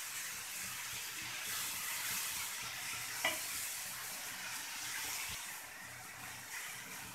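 Cubes of paneer fry in hot oil in a pan for a paneer curry, giving a steady soft sizzle with a faint stir or scrape now and then and no voices.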